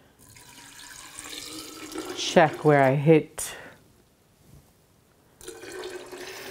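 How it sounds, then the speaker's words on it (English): Water poured from a cup into a measuring cup runs in a short splashing stream for about a second, then stops. A quiet voice speaks before and after it. "And to those 2 cups of nuts, I want to add 3 cups of water."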